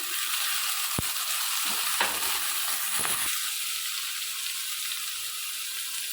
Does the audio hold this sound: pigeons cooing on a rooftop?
no